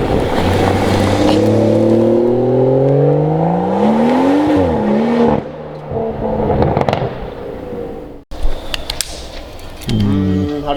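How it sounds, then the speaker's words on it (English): A BMW M240 fitted with a Remus exhaust pulls away under hard throttle, its engine note rising through the revs and dropping on each gear change, loud at first then fading, with a brief cut and a renewed roar near the end. "I'm going to film you driving off. Give it a bootful."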